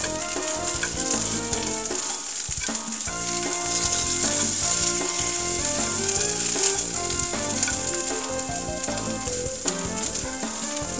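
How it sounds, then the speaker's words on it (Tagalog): Bamboo shoots frying in about a tablespoon of oil, stirred steadily for Japanese takenoko rice: a dense, continuous sizzle with soft scraping, close and loud, with no one speaking. "Halu-haluin lang po para hindi po nasusunog yung ating"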